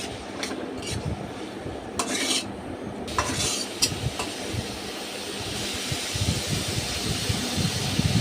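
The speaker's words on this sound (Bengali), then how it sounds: "প্রথমে আমি একটি কড়াইয়ে পরিমাণ মতো তেল, হাফ কাপ পরিমাণ পেঁয়াজ কুচি দিয়ে ভালোভাবে নেড়েছে" Chopped onions frying in oil in a kadai are stirred steadily, a spatula scraping and clinking against the metal pan over a soft, continuous sizzle, close and fairly even throughout.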